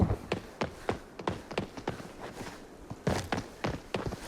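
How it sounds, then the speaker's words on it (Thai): Soft, evenly spaced sneaking footsteps in the video game Arena Breakout, about a dozen light taps in a steady walking rhythm, fairly close and with no talking. "เสียงย่องแบบน่าจะเป็นบอทนะ"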